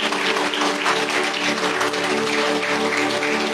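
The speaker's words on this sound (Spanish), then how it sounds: "Le damos un aplauso al Señor." A church congregation applauding in praise, a dense, continuous wash of clapping that holds steady throughout, with no talk over it.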